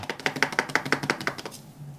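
Uncooked rice rattles inside a covered transparent container, shaken in about nine quick, evenly spaced bursts over a second and a half before stopping.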